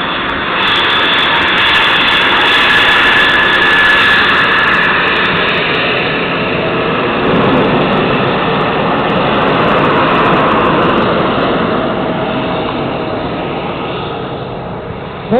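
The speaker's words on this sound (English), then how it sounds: "That's your demonstration plane." F-16 fighter jet engine roaring loudly and steadily throughout a flight demonstration, a continuous broadband rumble and whine with slight swells, no talk over it.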